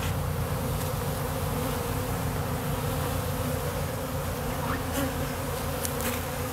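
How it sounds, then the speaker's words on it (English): A dense, continuous buzzing of many bees around a hive cover fills the whole stretch, steady and close, with no voices. "There are a ton of bees all around the cover."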